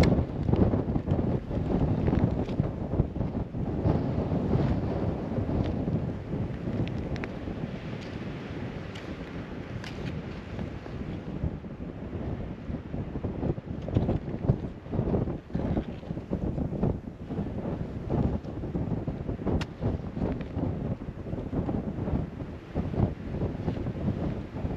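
Strong wind gusting across a frozen Moosehead Lake at a winter ice-fishing camp, a constant rough rumble buffeting the microphone with uneven surges for the whole stretch, no talk.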